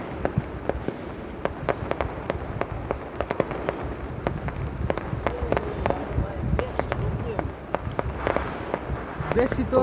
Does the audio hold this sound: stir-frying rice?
no